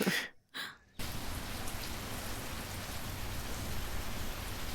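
Steady rain pours down as continuous broadband hiss after a brief quiet gap at the start, even and moderately loud with no talk.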